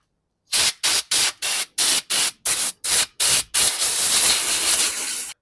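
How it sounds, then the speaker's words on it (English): Brake cleaner is sprayed onto the front brakes of a Vauxhall Vivaro van, first in about nine short hissing bursts in a quick rhythm and then as one long continuous spray, loud and close, with no talking. "Using brake cleaner, little bit cleans around this area."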